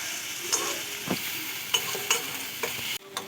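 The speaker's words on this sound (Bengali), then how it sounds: "এবারে পেঁয়াজের সঙ্গে খুব ভালো করে আদা রসুন পেঁয়াজ তিনটেকে একসঙ্গে ভেজে নেব।" Onion, ginger and garlic paste fry together in a pan, giving a steady bright sizzle broken by a few soft scrapes and knocks of a spatula, close and even, with no voices.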